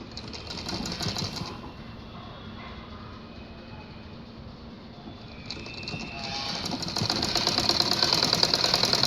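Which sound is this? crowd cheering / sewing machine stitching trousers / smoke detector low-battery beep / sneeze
sewing machine stitching trousers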